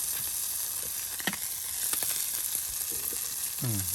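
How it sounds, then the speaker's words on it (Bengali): Spiced small freshwater fish, tengra and puti, frying in oil over an earthen clay stove outdoors: a dense continuous close sizzle with occasional stirring scrapes and a brief short voice sound near the end. "হ্যাঁ, মাছ মশলা করে ভাজলাম, ট্যাংরা মাছ, পুঁটি মাছ, চিকে মাছ"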